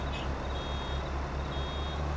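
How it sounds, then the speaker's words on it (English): Warning beeps from a baler in Farming Simulator 22: a faint, steady high-pitched tone sits over the constant low drone of farm machinery throughout. "Well, that's when they start beeping."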